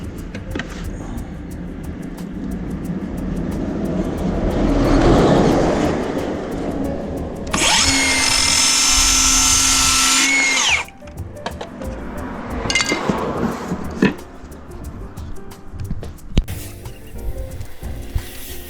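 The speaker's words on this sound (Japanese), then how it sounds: "ではね、端材を切っていきたいと思います" A power tool cuts scrap wood in a DIY build of a cupboard: a loud, steady high-pitched whine for several seconds, with rattling, clattering handling noises before and after and no talk.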